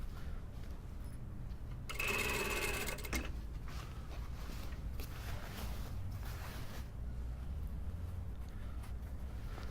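A sewing machine stitching a two-piece sleeve into the armhole of a lined jacket, running in a steady, close, quiet whir with a louder, busier burst of stitching partway through.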